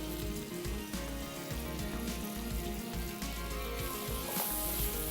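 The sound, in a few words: sautéing in a pan, sizzling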